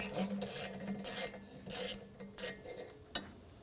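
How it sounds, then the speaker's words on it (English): Ratcheting socket wrench with a 12mm socket loosening the bolt on a rear brake hose bracket of a 2017-2022 Honda CR-V, heard as a close series of raspy turning strokes in short bursts with brief pauses between them. "So 12mm socket, and we're going to find that bracket and take that bolt right off."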